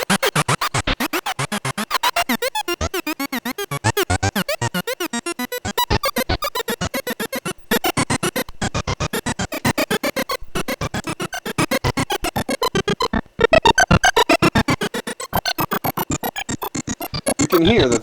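A buzzy Roland SH-3A analog synthesizer plays rapid pulsing notes whose pitch wavers with vibrato, continuing steadily with brief gaps and no talking.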